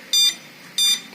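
A low voltage alarm on a Xian Ke Zhi pure sine wave inverter gives two short, loud, shrill electronic beeps separated by a brief pause.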